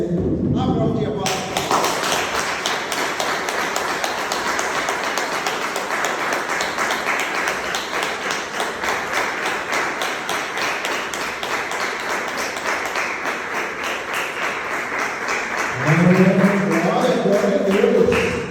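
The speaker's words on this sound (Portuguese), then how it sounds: "Vamos aplaudir a palavra do nosso Deus?" Church congregation clapping together in a sustained round of applause for about fifteen seconds, dense and even, before a voice breaks in near the end.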